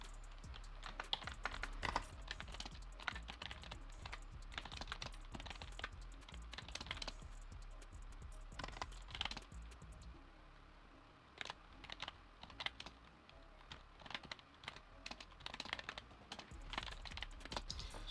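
Fingers type on a computer keyboard in quick irregular bursts of clicks with short pauses between them, close but quiet, and no one speaks.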